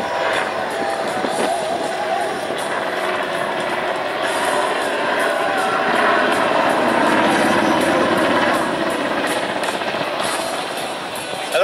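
An NH90 Caïman military helicopter at an air show, its rotors thrumming loudly and continuously with a rapid chopping pulse, building slightly in the middle before easing.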